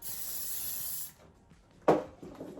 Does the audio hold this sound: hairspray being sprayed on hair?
yes